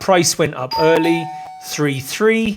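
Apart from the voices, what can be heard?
doorbell ringing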